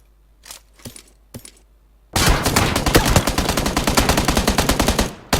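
Rapid automatic fire from a G36C rifle in PUBG Lite on the snowy Vikendi map rattles out in a dense, loud, steady string of shots for about three seconds. A few faint taps come before it.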